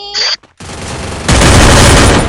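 Dense, loud gunfire in a Free Fire 4v4 battle royale match, a sharp burst of fire followed by a brief gap and then a sustained fusillade that swells louder toward the end, with no voices.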